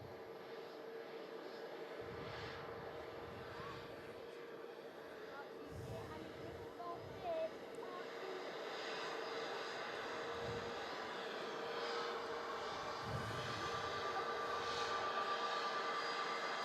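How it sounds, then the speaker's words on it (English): A Boeing 787 Dreamliner departs Manchester Airport as a steady, distant jet engine roar holds under near-continuous talk. "Should catch the gear down as well, just prior to the Dreamliner departing."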